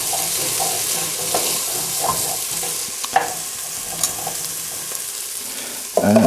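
Celery sautéing in a hot pan for soup, a continuous close sizzle with a few stirring scrapes and light clicks, and a brief clatter near the end.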